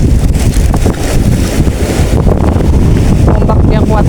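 Strong wind buffets the microphone at a slippery rocky fishing spot by the sea while heavy waves wash and surge continuously nearby; brief voices are heard under the noise.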